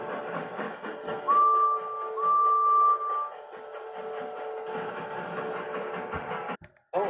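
Two drawn-out train whistle blasts as a train departs, steady and tonal, over a rumbling mechanical background that continues afterward, moderately near.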